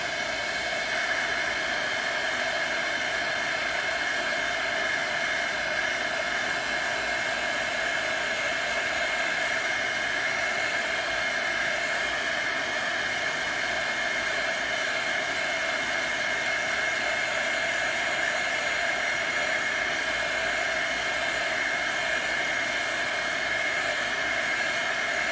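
A hair dryer blows steadily to dry chalk paste on an unframed chalkboard wreath design, a loud continuous whooshing roar with a constant whine, unbroken for the whole length, with no voices.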